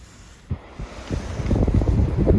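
Strong wind blowing outdoors at a deer hunting spot on Kangaroo Island, rumbling and buffeting close to the microphone and growing louder in gusts, with a thump near the start and no talk.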